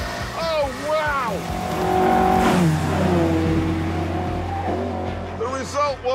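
Ford Cortina Genesis race car engine revving hard, rising and falling pitch sweeps of a high-revving four-cylinder, loud and close, with a voice speaking over it in places.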